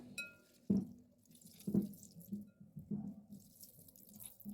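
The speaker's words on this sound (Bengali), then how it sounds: "দেখুন কত রস বেরোচ্ছে" Orange pulp juice squeezed through a clean cloth drips and splashes into a container in a few separate drops and small trickles, close and fairly quiet.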